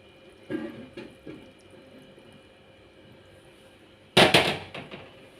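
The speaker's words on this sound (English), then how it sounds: "We are going to put in water" Water is poured from a container into a bowl of oatmeal for a pizza dough. A few soft splashes come first, then a louder, brief gush near the end in an otherwise quiet kitchen.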